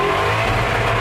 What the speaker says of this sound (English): On the rev limiter.